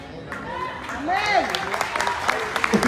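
Members of a church congregation clap their hands during a service, a steady patter of applause that stays under a voice speaking and chanting throughout.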